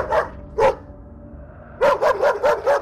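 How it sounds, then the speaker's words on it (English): A dog barks loudly and close by, two sharp barks, a pause, then a rapid burst of four or five more. "At once, the couple heard Baxter barking loudly"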